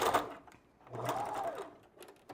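A sewing machine stitches wig tracks with a backstitch, its motor buzzing in two short close bursts separated by a brief pause, with no talking.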